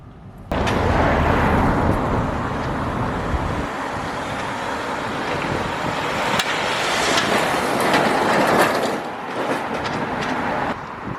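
Steady road noise from inside a moving car: a broad, continuous rumble and tyre roar that starts abruptly after half a second and swells slightly at times, with no talking.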